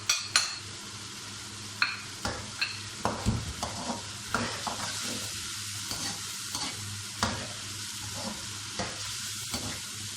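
Karahi gosht meat with spices fries in a pan, a dense hissing sizzle punctuated by frequent sharp scrapes and clanks of a spoon against the metal, close and continuous with no speech.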